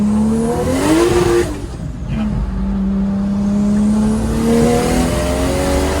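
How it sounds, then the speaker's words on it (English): A Lexus SC300 tuned to 655 hp accelerates hard in second gear onto a freeway, its engine revving up in a loud rising whine, briefly dropping at a shift, then climbing again close up inside the car. "We're gonna do a second gear pull right here, getting on the freeway."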